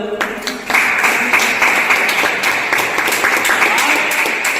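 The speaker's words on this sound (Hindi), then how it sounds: "एक बार जोरदार ताली हो जाए" Loud, sustained applause from a large classroom audience, clapping swelling in after a brief pause and continuing steadily throughout.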